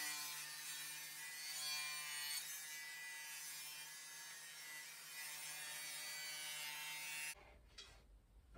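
A saw rips wood into thin slats for a beehive rack, a steady close whine and rasp of cutting that runs unbroken for about seven seconds before it cuts off abruptly.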